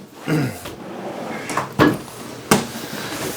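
A cupboard door in a 2026 Brinkley Model Z 3600 RV is handled nearby: a soft creak of opening, then a couple of sharp wooden clunks as it shuts, with no talking.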